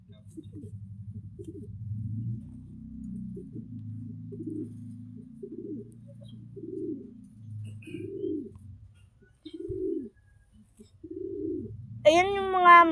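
A Capuchin fancy pigeon coos close by, a string of low, soft, rhythmic coos repeating every second or so, ending with a brief higher-pitched call.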